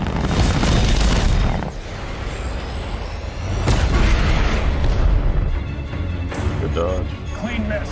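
Railgun fire and explosions from a space battle in The Expanse, loud booming blasts and rumbling bursts layered with dramatic effects and voices, dense and continuous throughout.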